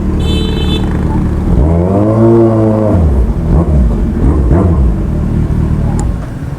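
A BMW motorcycle engine rumbles and revs at a racing shop, rising and falling in pitch with a drawn-out swell in the middle, while people chat nearby over the idle.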